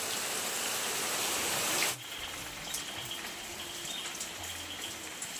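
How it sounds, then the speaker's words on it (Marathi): Monsoon rain falling steadily outdoors, a dense hiss that cuts off abruptly partway through, leaving a softer patter of drops and scattered drips in a quieter background. "पुन्हा सुरू झालाय पाऊस."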